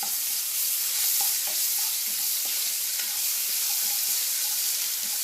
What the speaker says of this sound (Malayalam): ആ ബാക്കിയുള്ള ഓയിലിൽ തന്നെ 1 teaspoon ginger garlic paste add ചെയ്തിട്ട് അതൊന്ന് നല്ലോണം മൂപ്പിച്ചെടുക്കണം.